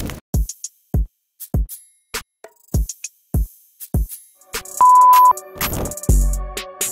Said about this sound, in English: I started this beat with the clicks, the kick and the clap and all that.